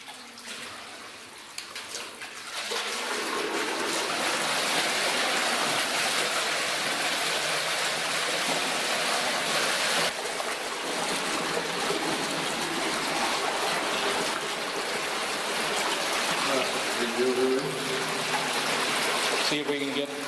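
Water gushes steadily out of an old mine dam inside a dark, muddy tunnel, a loud continuous rushing roar that swells after a quieter start and carries on without a break.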